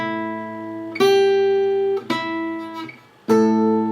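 A guitar riff on A alternates root, fifth and flat seventh, three sustained, clearly plucked notes ringing one after another, close and clean with no talking.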